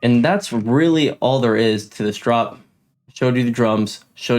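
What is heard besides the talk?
None of the usual background noises is heard.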